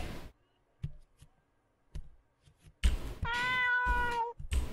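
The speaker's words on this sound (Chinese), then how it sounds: "什么猫叫？" A cat meows in a horror video game, a single drawn-out wavering meow rising clearly after scattered soft clicks and brief bumps in a quiet stretch.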